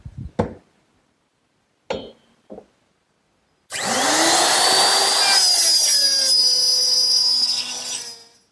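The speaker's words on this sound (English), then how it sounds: "the instructions for my jig tell me to use the same router setup, but this slot to make the female part of the dovetail" A router guided by a dovetail jig cuts the female slot of a dovetail in wood for a chair table, a loud high whine that starts abruptly after a few knocks and runs steadily for about four seconds before tapering off.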